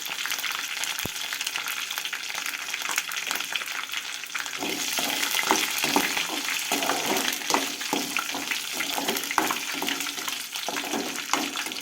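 Curry leaves, dried red chillies and cumin seeds crackle and fry in hot oil, a dense close sizzle that grows louder midway, with occasional stirring clinks and no talk.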